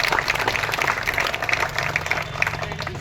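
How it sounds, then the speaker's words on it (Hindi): Crowd applause welcoming a candidate at a village election rally, rapid continuous clapping at moderate distance with a low hum and murmur underneath. "गांव में पहुंचने पर जोरदार तालियां बजाकर स्वागत करें"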